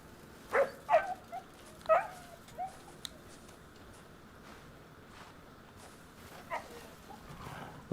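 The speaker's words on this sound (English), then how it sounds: "that's the dog whelped." A dog in the video game Crimson Desert lets out a few brief whimpering yelps and cries early on, fairly faint against a low ambient game background.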